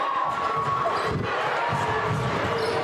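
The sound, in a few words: crowd cheering at a high school basketball game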